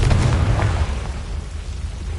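Booming blast from the Confringo explosion spell in Hogwarts Legacy, a deep rumbling burst at the start that rolls and fades away over the next two seconds.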